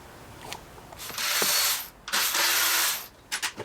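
A ratchet works on an intake manifold being removed from a Kia K3 1.6 GDI engine: long bursts of rapid clicking, close and fairly loud, broken by short pauses and a few quick final clicks.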